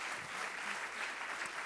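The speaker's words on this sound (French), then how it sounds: "Je pense qu'on peut applaudir très fort Catherine" A festival audience applauds a speaker steadily, a dense wash of clapping that holds at an even level throughout.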